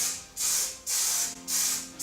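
Hair setting spray hisses out of an aerosol can in three short bursts separated by brief pauses, close and bright.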